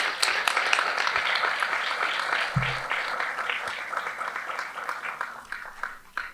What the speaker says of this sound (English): So can we also have a round of applause for Sister Stacy?